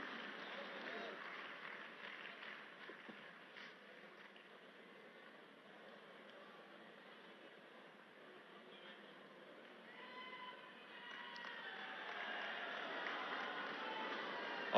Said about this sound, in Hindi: तालियों की आवाज के साथ, करतल ध्वनि के साथ आप सबकी शुभकामनाएं भी तारावती जी और अशोक कुमार जी के लिए।